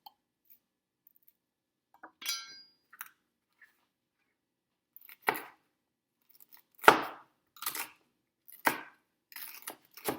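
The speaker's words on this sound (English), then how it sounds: "I'm a big fan of actually chopping yourself because it improves your knife skills" Knife chopping bell peppers on a cutting board, a sparse run of sharp close-up taps, a few isolated ones at first and then quicker clusters of cuts, with no talk over them.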